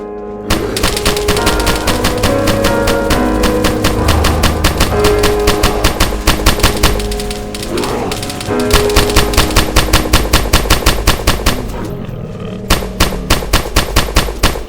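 Rapid automatic gunfire in the video game DayZ, loud and close, long sustained bursts of evenly spaced shots with a brief pause and a short break near the end, no talking over it.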